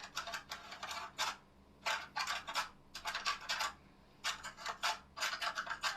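A stylus scratches designs into a soft, pliable aluminium surface in short bursts of quick, rasping strokes separated by brief pauses, close and fairly quiet with no talk.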